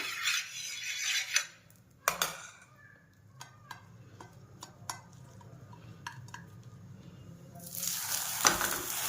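A leftover chapati fries in ghee on a pan with a steady soft sizzle, broken by a few clicks and taps from a utensil, and the sizzle swells louder near the end.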